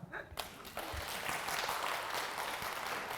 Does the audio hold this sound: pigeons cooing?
no